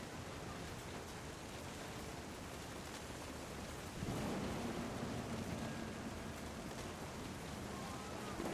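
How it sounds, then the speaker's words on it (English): Steady heavy rain hiss in What Remains of Edith Finch, deepening into a low rumbling swell of thunder midway that hangs on under the downpour. "The thunder sounded much too close and full of angry power"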